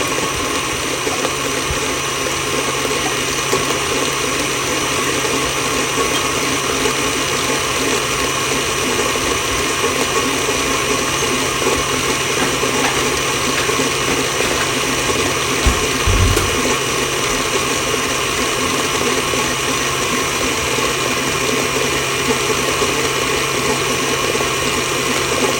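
An electric mixer whipping cream cheese filling for a blueberry pie, a steady dense mechanical whir that runs unbroken and fairly loud throughout.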